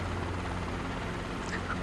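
A Robinson R22 helicopter in Microsoft Flight Simulator 2024 drones steadily in flight, a dense, continuous rotor and engine roar filling the whole stretch at constant loudness, with no voices over it.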